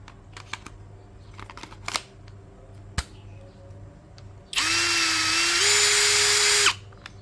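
A DCA ADJZ1203E cordless brushless drill at speed setting 1 is handled with a few clicks and taps, then runs with a steady whirring hum for about two seconds, its pitch rising slightly before it stops.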